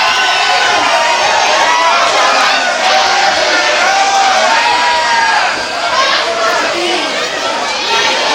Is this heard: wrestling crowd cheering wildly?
yes